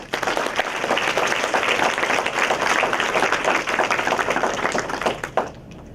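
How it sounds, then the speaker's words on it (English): An audience at a youth symposium at Pearl Harbor claps loudly and continuously for about five seconds, a full, even burst of applause that quickly dies away into quiet. "Let's give them a round of applause, please."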